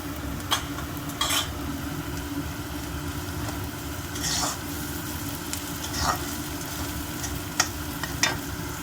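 Smashed potatoes and curry leaves fry in a kadai of masala, giving a steady close sizzle with a few louder bursts of stirring and scraping, and no voices.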